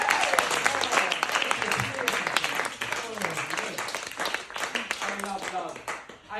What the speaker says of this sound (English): Give a round of cheer for Romeo.